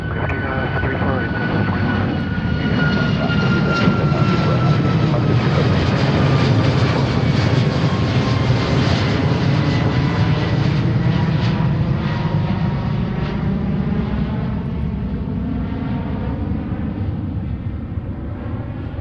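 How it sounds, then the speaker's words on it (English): A Southwest jet airliner roars down runway 34 right at Seattle-Tacoma airport for takeoff, a loud sustained engine rumble with a whining tone that shifts in pitch as it accelerates away. "Southwest 2185, run 34 right, clear for takeoff."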